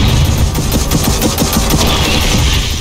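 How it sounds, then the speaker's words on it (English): Loud rapid explosive bursts and booming rocket fire from the video game Gears of War 4, a dense continuous barrage heard up close without talk. "Rockets are away."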